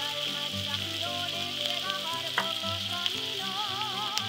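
Rice frying in olive oil with garlic and onion in a pan, giving a steady, close sizzle throughout, with tonal music running underneath and no talking.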